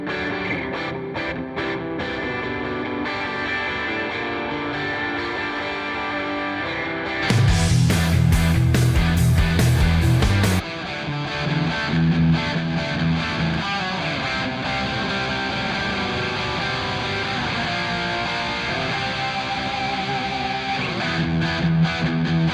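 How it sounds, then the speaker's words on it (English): Dense, distorted electric guitars play a heavy riff, with a louder, punchier section partway through before the thick, sustained chugging continues. "So these are much heavier guitars"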